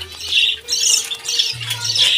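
Finches at a breeding farm give repeated bright, high squawking calls, loud and close, overlapping continuously with no talk.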